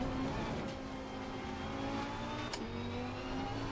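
Race car engine in the sim racing game Assetto Corsa Competizione at Mount Panorama, running steadily with a constant drone and a couple of brief revs, with no talk over it.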